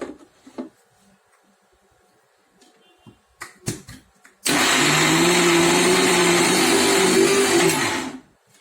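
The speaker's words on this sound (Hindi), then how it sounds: "अभी उसे वापस ऐसे ही ग्राइंड करना है" A kitchen grinder runs on boiled chickpeas for hummus, starting abruptly after a few quiet clicks and handling noises and then whirring loudly and steadily for about four seconds before stopping.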